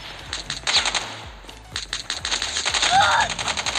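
Call of Duty Mobile gunfire arrives as rapid automatic bursts of sharp, close shots in quick repeated volleys, with a voice talking over the shooting.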